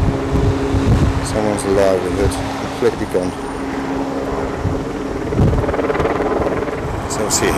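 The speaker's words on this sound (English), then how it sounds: "There's obviously helicopters floating about the place." Helicopters circling during the 2011 Croydon riots, a steady low mechanical drone running through the whole stretch beneath crowd noise and bursts of talk nearby.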